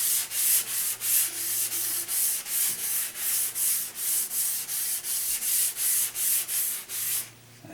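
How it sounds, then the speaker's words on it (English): Rhythmic back-and-forth sanding of primer off a Rickenbacker 325 guitar body, steady strokes repeating about twice a second, close and alone. "So I'm just going to sand out the whole thing."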